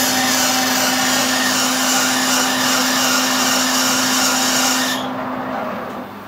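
A metal lathe takes a thread-cutting pass on a CO2 fire extinguisher thread adapter, giving a loud, steady whine with a constant hum that cuts off abruptly near the end and leaves a quieter fading tail.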